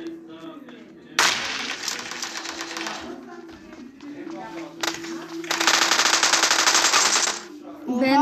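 Bursts of rapid automatic gunfire in a multiplayer shooter video game, two long loud volleys with short pops between, while players talk excitedly over the shooting.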